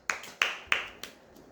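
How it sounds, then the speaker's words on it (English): A small group of people give short bursts of applause for a runner-up after a tic-tac-toe board game, four sharp claps at an even pace, the last one fainter, close by and alone. "Big claps to runner also."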